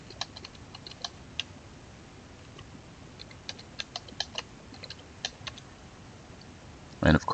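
Someone types a new password on a computer keyboard while adding a password to a local Windows 10 account, with soft, irregular key clicks scattered throughout and a louder clatter of keystrokes at the end.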